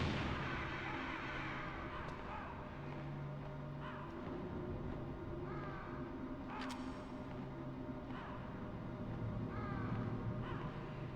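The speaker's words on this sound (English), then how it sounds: "You can knock out the crows." Crows cawing in the Metal Gear Solid video game, several separate harsh caws spaced a couple of seconds apart over a steady low game ambience with rumbling background effects.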